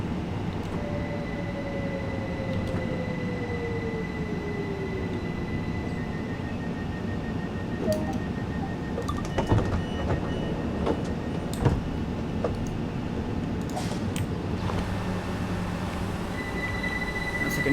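Rumbling train ambience from the video game Train Sim World as a train departs, with wheel squeal and a descending tone, occasional clanks and a steady hum, continuous with no talking.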